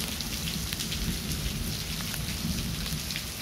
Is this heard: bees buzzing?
no